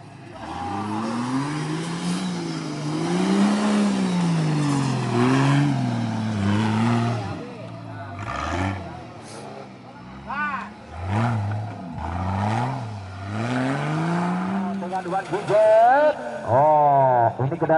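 An off-road car at a West Java regional off-road race, its engine revving and rising and falling in pitch with bursts of acceleration, loud and close, under an announcer's excited talk.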